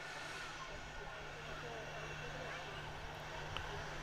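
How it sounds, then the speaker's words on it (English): A Jet2 airliner taxiing at Manchester Airport makes a faint, steady distant engine drone with a low hum running through it, with no sharp events. "There you go, Jet2 holidays on the taxi pass."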